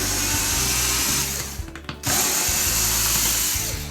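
Oster Clipmaster cattle clipper motor running loud and steady with a slight mechanical rattle in the head, which needs grease; the buzz drops out briefly midway before resuming.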